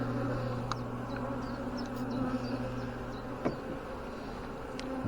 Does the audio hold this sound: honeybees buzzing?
yes